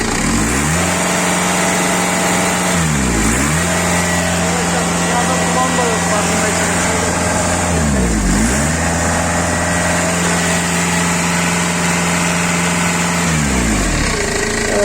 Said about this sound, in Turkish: Makinenin çalışmasında herhangi bir vibrasyon, sarsıntı, tekleme yok arkadaşlar.